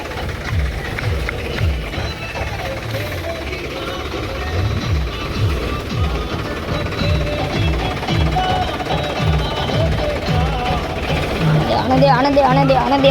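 A tractor engine chugs loudly and rhythmically up close while pulling a plough, its diesel pulsing growing heavier toward the end, with people talking over the noise.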